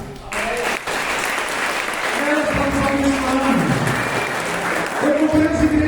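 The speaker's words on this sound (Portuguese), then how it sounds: "Vamos dar uma salva de palmas" Church congregation applauding during a celebration service, steady clapping from the crowd running throughout while a voice talks over it and people murmur.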